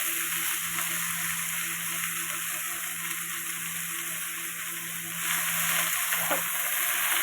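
Garlic frying in oil in a pan gives a continuous, even hiss of sizzling, fairly close and unbroken, with one faint clink near the end.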